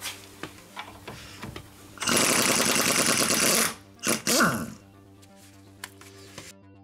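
Wrench loosening a size 17 steering ball joint nut on a car's suspension, heard as a loud burst of rapid ratcheting clicks lasting about a second and a half, then a shorter second burst, with quieter metallic knocks around it.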